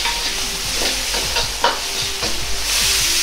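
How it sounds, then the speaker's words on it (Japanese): Doubanjiang, garlic and ginger stir-fry in oil in a tilted wok, a loud steady sizzle with scraping stirs of a utensil against the pan at irregular intervals, close up. "鍋を傾け、油が溜まったところに豆板醤を入れて油で溶くようにして豆板醤を炒めます。"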